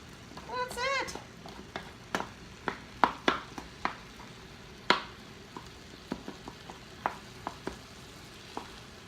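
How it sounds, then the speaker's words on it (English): Egg yolk stirred into rice in a pan, soft sizzling under a series of sharp spoon scrapes and taps against the pan, spaced irregularly, with a voice briefly heard early on. "Break the yolk. Swirl it around. And start mixing it in with the rice."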